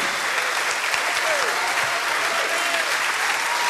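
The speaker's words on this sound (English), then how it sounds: "Please put your hands together for Duggie Brown, ladies and gentlemen." A theatre audience applauding at the end of a stand-up comedian's act, dense sustained clapping filling the room at steady volume throughout.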